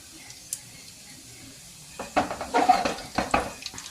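Faint hiss of hot oil, then a burst of sharp crackling pops as mustard seeds splutter close by, irregular and quickening over the last couple of seconds.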